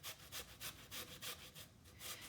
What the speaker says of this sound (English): I'm using the fine grater, and I'm just going to come in here and grate these.